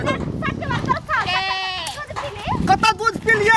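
A goat bleats in a few wavering cries amid ongoing talk in a Maithili-language comedy scene, the bleats close and loud between the voices.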